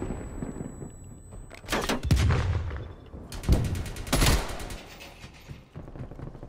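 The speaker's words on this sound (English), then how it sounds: "the KSP-45, it's actually a pretty good gun" Burst-fire shots from the KSP-45 submachine gun in Call of Duty Black Ops Cold War ring out in several sharp, loud volleys spaced a second or two apart, booming against a low rumbling game backdrop.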